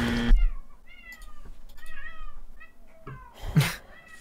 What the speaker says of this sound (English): That cat meows a lot.